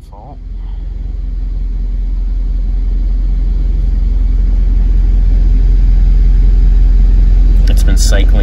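A 1997 Jaguar XK8 with a multi-cylinder misfire runs close by, a loud, heavy low rumble that grows steadily and stays uneven; a brief sound near the end rises above the engine.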